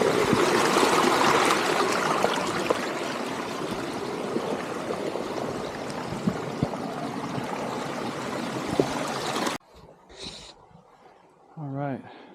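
A small creek flowing over rocks on the Colchuck and Stuart Lakes Trail, a steady close rush of water that cuts off abruptly into quiet near the end, where a voice is briefly heard.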